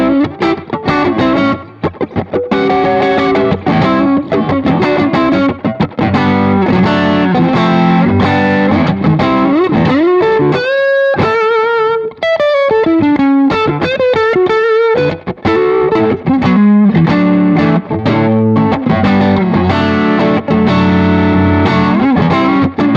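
PRS SE John Mayer Silver Sky electric guitar played through added overdrive on the neck pickup, a continuous run of distorted chords and single-note lines, loud and close with no talking.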